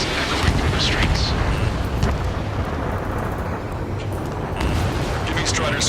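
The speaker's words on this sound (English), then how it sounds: "Gunfire and the roar of jets echoing through the streets" Dense, continuous rumble of gunfire and roaring jet engines in the Ace Combat 7 aerial combat game, a city under martial law, loud and unbroken throughout with brief higher bursts near the start and end.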